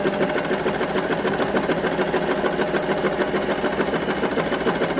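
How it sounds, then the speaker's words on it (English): A Singer Promise sewing machine stitching forwards runs close and steady, a fast even mechanical chatter with a humming motor underneath, unbroken for the whole span and free of talk. "Now we're ready to sew forwards."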